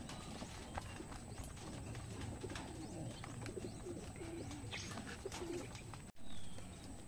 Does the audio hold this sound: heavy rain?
no